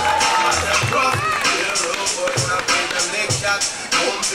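Crowd at a skateboarding contest during a sports festival, cheering and shouting loudly and continuously, with voices and whistles blending into a dense roar that rises and falls in bursts.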